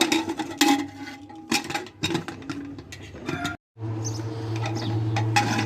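Metal pressure cooker lid handled and clanked shut during pudding preparation: a series of sharp metallic knocks and scrapes, followed by a brief silence and then a steady hum.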